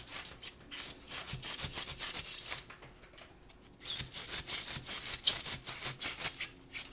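Foam tree pieces are cut in quick repeated scraping, snipping strokes, a steady close-up rhythm of rubbing crunches with a short quieter pause in the middle.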